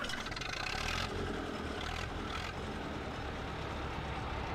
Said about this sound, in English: I like the startup on that, wee little rev of the engine.